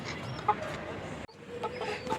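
Chickens cluck nearby on a hot, sunny day, with soft irregular clucks and a couple of brief sharper calls over a quiet background.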